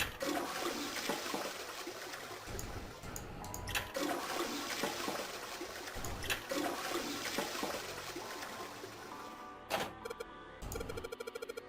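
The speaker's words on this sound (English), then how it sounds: "I heard a loud flushing noise." A toilet flushes in the video game Zero Escape with a loud, steady rush of water that lasts many seconds and is heard alone, then tapers into a few trickling and clunking sounds at the end.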